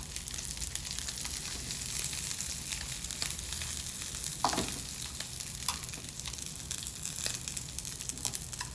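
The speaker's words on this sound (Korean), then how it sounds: "샬롯도 같이 넣어서 익혀줍니다." Shallots and onion fry in oil in a pan, giving a steady close sizzle with occasional stirring scrapes and a few brief clinks, with no talk.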